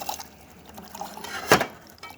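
A steady, gentle stream of hot water runs from a Delonghi Magnifica S espresso machine fitted with a new water pump, a soft liquid flow close by with one brief louder splash partway through.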